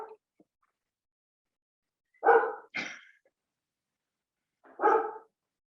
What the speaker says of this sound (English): That's my dog, Bailey, and I'm hoping he's not going to bark forever.